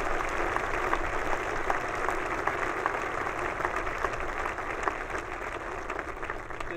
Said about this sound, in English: Let's give these outstanding faculty applause for their years of service.